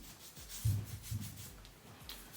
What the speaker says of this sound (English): Then you just rub it in.